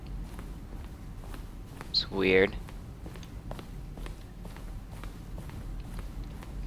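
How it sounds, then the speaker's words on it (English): Steady footsteps in The Stanley Parable's game world, evenly paced taps running through the whole stretch at moderate level, with a brief spoken remark partway through. "I hear footsteps."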